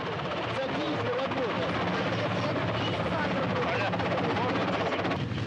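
Russian medical helicopter at a snowy Kazakhstan landing site for a returning International Space Station crew, a steady whirring rotor drone running continuously and moderately loud, with someone speaking over it.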